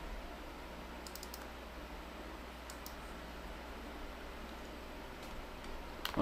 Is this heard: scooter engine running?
no